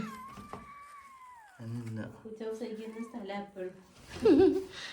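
A house cat that is about to give birth meows in several drawn-out, rising calls, close and fairly loud, with people talking and chuckling in between.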